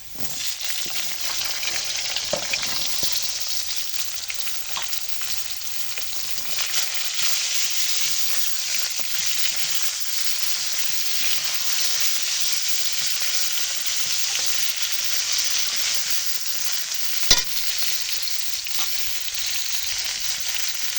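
Drumsticks (moringa) added to already-fried potatoes crackle in hot oil with a loud, continuous sizzle that stays dense and steady throughout, with a single sharp pop near the end.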